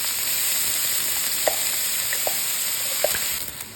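Onions and green chilies frying in hot oil with mustard seeds, a steady broadband sizzle throughout with a few sharp pops standing out, close and fairly loud.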